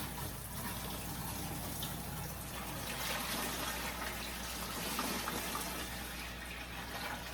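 Water pours steadily into a small portable washing machine, a continuous gushing, splashing rush at close range with no talking.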